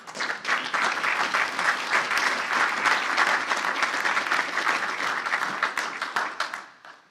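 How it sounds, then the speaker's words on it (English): Indoor applause at an Eagle Scout Court of Honor for Troop 97, a room of people clapping with crisp, distinct claps that build quickly, hold steady, then taper off at the end. "Round of applause, please."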